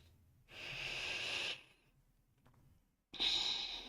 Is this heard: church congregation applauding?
no